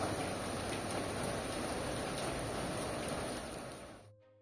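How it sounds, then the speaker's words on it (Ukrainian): Steady rain falling outdoors at night, a dense even hiss of drops on surfaces that holds throughout and then cuts off abruptly near the end. "Знову дощик. Я так люблю дощик."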